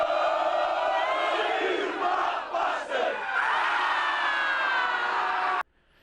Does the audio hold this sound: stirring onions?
no